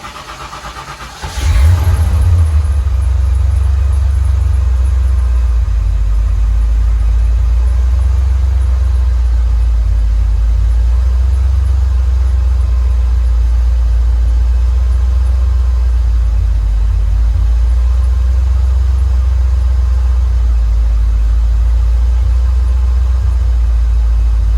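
A Ford fox body Mustang engine fitted with a mass air flow conversion kit cranks briefly and fires, then settles into a steady, loud, low idle rumble that continues unchanged for over twenty seconds.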